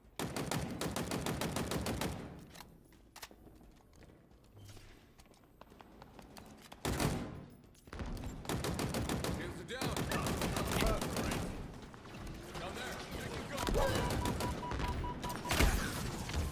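Gunfire in a Halo Infinite multiplayer match, with sustained loud bursts of automatic shots broken by short pauses and shifting intensity, alongside other game effects.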